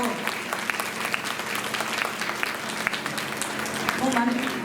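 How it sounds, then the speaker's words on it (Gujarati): Audience at a public gathering breaking into steady applause, many hands clapping together in a dense, continuous patter with a voice speaking over it. "આપણે જેટલા એને જોરદાર તાળીઓથી બિરદાવી એવું બિરદાવો"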